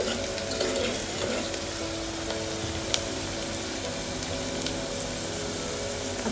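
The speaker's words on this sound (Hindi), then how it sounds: "एक 2 सेकेंड चिल्ली को भी फ्राई होने देते हैं।" Green chilies frying in oil in a pan, a steady soft sizzle throughout with faint stirring and one brief clink, no talk.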